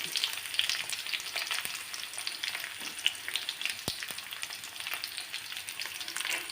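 Onions crackle and sizzle steadily in a hot pan, with occasional sharper pops, fairly close and without voices.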